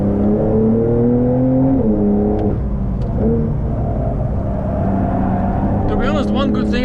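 A 2021 Porsche 911 Carrera GTS (992) on the track at Franciacorta, engine droning and rising in pitch through the gears, heard from inside the cabin with loud, steady road and wind roar and a voice talking over it.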